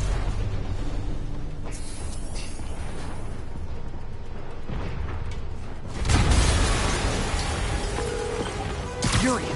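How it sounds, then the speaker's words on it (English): An explosion in a Spider-Man video game bursts with a loud broadband blast partway through, followed by a brief second burst near the end, over a rumbling, clanking game soundscape with character voices speaking. "An explosion just... I saw it."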